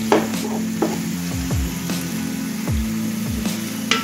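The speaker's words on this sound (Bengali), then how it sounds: "এরপর কাঁচা মরিচ কুচি, একটু ভালো করে নেড়ে নিই।" Chopped green chilies stir-fried into a vegetable noodle mix in a nonstick pan over medium gas, a steady sizzle with scraping strokes and a few clinks of utensil on pan.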